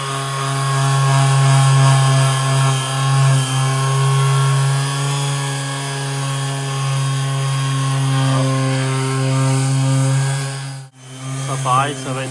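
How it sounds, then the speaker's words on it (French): Power sander working over the body of a vintage gas pump during restoration, a loud, steady droning hum with strong tonal bands that briefly drops out near the end before resuming. "Donc là on est en train de poncer toute la machine"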